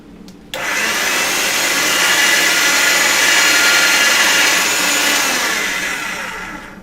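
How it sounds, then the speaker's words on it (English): Polymer clay runs through a pasta machine on its thin setting, giving a sudden start and then a steady, loud mechanical whir held for several seconds before it fades slightly. "Get it through the pasta machine on thin."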